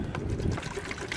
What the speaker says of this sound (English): First thing you need to do is fill it about halfway with water.